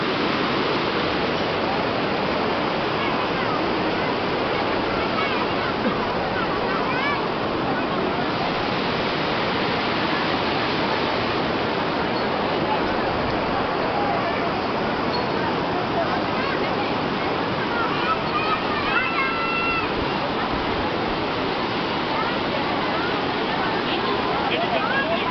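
Water flowing at the Chamunda Devi temple, a loud, steady rushing roar like a stream or small waterfall, continuous throughout with little variation.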